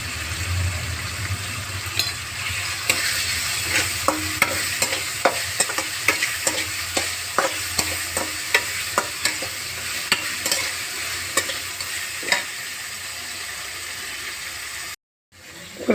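Chicken with turmeric fries in a pan, a continuous sizzle broken by a run of sharp spoon or spatula scrapes and taps as it is stirred, with a brief dropout near the end.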